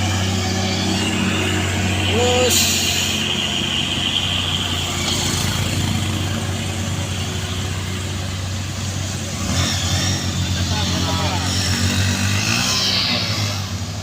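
Trucks labouring up the Kadabuan hill climb, a steady loud engine drone with road noise, brief shifts in pitch as engines strain and change gear, a voice heard in places.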